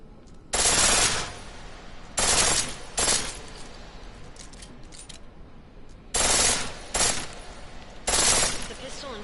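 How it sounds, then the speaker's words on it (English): A pistol set to full auto in Deus Ex: Mankind Divided rips off several short, loud bursts of rapid gunfire, separated by brief pauses with quieter background ambience between them. "The pistol in full auto will take down targets fast, but it'll burn through your ammo."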